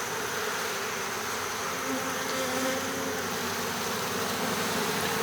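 A honeybee colony in its hive during late September, the bees humming in a dense continuous drone that stays steady and close, with no voices.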